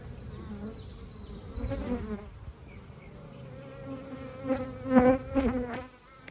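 Honeybees hum and buzz during an inspection of a backyard hive, a steady droning swarm close by that swells louder for a few seconds near the end, with no voices.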